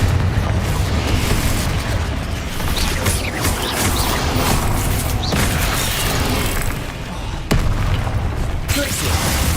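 Bombarda and Confringo spell explosions in the Hogwarts Legacy video game, a dense barrage of booming blasts and bursts over a constant heavy rumble, with a voice calling out between them.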